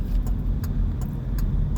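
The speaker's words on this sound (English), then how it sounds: "I'm just watching the traffic here." Road traffic rolls past as a steady low rumble, with a car close by and a few faint ticking clicks scattered through it, and no voices.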